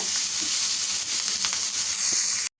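Ginger, green chili and curry leaves frying in hot oil for a tempering, giving a loud, continuous close sizzle with small crackles, cutting off abruptly at the end.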